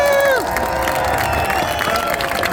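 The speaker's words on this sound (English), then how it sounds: "please, if you could give a warm applause for Eileen." A rally crowd applauding and cheering, with voices shouting and whooping over the clapping, loud and close, plus some sliding vocal tones near the start.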